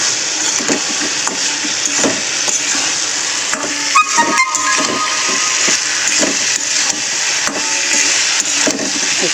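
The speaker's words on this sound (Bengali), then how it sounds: "এর মধ্যে এবার ভেজে রাখা ঢ্যাঁড়সগুলো মিলিয়ে দেব। দিয়ে হালকা করে নাড়াচাড়া করব।" Fried okra being stirred into a cooked spice mixture in a hot pan, giving a loud, steady sizzle and hiss broken by repeated scraping and clattering strokes from the stirring utensil, with no talking.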